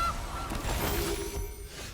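Goose honk sound effect from the digital card game MTG Arena, one short nasal honk rising and fading in about two seconds, loud and alone with no talk.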